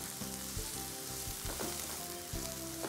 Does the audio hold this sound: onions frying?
yes